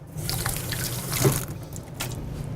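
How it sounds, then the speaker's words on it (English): Water running from a tap, splashing and trickling steadily into a sink for a few seconds, near and moderately loud, with no voices, while a table is wetted for shaping bread dough. "we're just going to put a little bit of water on the table."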